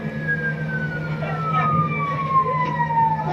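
An ambulance siren wails steadily, its tone gliding slowly downward as the vehicle moves off, with a low engine or road rumble underneath and no talking.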